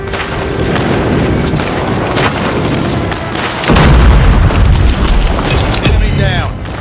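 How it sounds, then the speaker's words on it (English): Airstrike explosions in Call of Duty Mobile during a multiplayer ranked match: steady gunfire-like booms give way to a heavier, louder rumbling blast burst midway, with low-end impact continuing to the end. "Friendly airstrike incoming."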